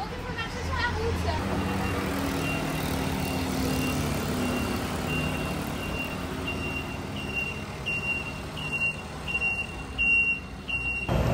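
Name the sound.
loud truck indicator beeps and scooters in a Taiwanese street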